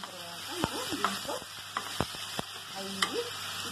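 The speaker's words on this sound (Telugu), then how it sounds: "ఇప్పుడు మనం ఉల్లిపాయలు ఎర్రగైని అల్లం తెల్లగడ్డ పేస్ట్ ఒక స్పూన్ వేసుకుంటున్నాను" Ginger garlic paste fries with onions in a pan, a soft low sizzle under scattered spoon scrapes and stirring clicks, with a voice speaking briefly in the background.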